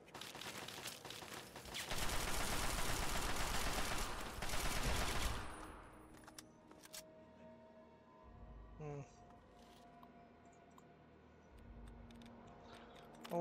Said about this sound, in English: Oh, it's a turret.